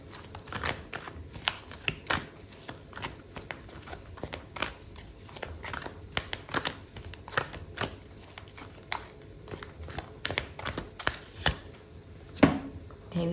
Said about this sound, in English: Okay, so I'm going to pull out a card for your advice